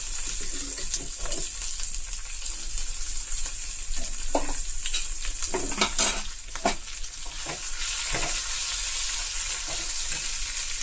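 Cooked horse gram tipped into a hot pan and stirred, giving a steady loud sizzle with scraping stir strokes and occasional clatters, no voices.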